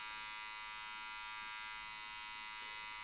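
An electric hair clipper runs continuously during a men's home haircut, giving a steady, even, high-pitched buzz with no pauses and no voices.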